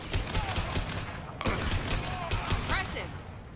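Gunfire from a weapon in Mass Effect 2 during a street fight with Blue Suns and Vorcha: scattered bursts and sharp shots with mechanical clanks, under a talking voice.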